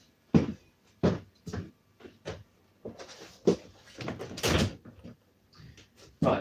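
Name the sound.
closing a door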